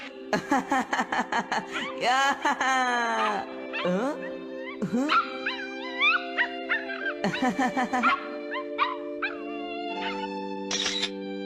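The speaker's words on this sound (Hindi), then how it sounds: "मॉम, अभी मैंने एक डॉग की आवाज सुनी।" A cartoon dog in a Doraemon episode barks, yips and whimpers in a rapid series of short, loud cries with rising and falling pitch, alone over about eleven seconds.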